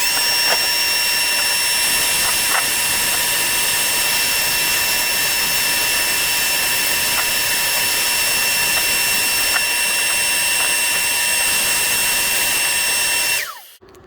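A power tool sands a 1984 Corvette valve cover in a steady, loud, high-pitched whine that holds for about thirteen seconds before cutting off abruptly.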